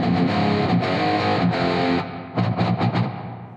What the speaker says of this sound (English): Oh, why is there reverb on there?